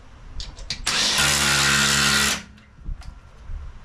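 A loud impact wrench rattles in one sustained burst of about a second and a half, with softer clanks and knocks before and after.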